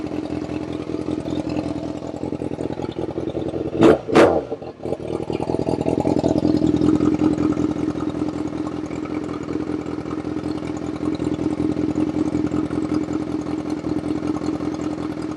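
A Yamaha FZ6R motorcycle engine idles steadily and loud during a throttle body sync, with a brief blip and dip in the middle before it settles back to an even idle.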